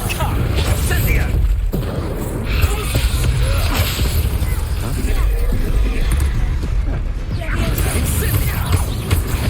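Incendio fire spell cast in Hogwarts Legacy, a loud burst of crackling, whooshing flame amid dense combat noise and booms, with a voice shouting over it.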